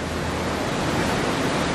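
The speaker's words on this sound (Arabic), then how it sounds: "انا دلوقتي على يميني البحر" Sea waves wash against the shore at Dahab as a steady, close, broadband rushing hiss that stays even and unbroken throughout.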